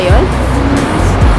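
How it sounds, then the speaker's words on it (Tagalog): A bus pulls in at KL Central in Kuala Lumpur, its loud engine rumble and whining, sliding tones filling the moment up close. "nakita nyo dumating na yung bus"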